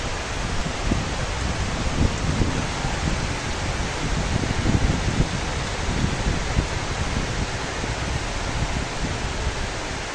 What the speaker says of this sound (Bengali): দেখতে পাচ্ছেন অনেক মুষলধারে বৃষ্টি